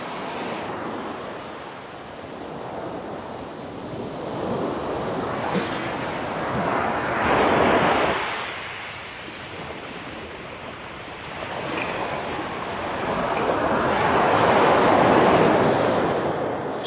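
Ocean waves surging and washing onto the shore, several swells rising and falling in slow succession, loud and close with wind buffeting the microphone.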